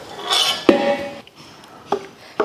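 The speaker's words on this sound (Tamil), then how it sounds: "நல்லா கட்டியாக இருந்த சாதம் வந்து உருண்டையாக இருந்துச்சுன்னா கூட நீங்கள் நல்லா கரண்டி வச்சு கலந்து விட்டுருங்க" A ladle mixing tomato rice with tomato thokku in a large pot, a few sharp metallic clinks and scrapes separated by short quiet gaps.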